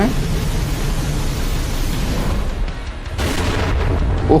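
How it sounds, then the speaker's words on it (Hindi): Godzilla's atomic breath explodes in a dense, roaring blast of broadband noise that stays loud and sustained throughout, with a brief surge of hissing near the end. "अपनी एटॉमिक ब्रेथ से भाई कितना तेज धमाका किया"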